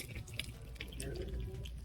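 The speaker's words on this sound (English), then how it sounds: "You gotta hear the sizzle." Soft, steady sizzling and crackling of crab rangoon frying in hot oil, fairly faint and close, with no voices.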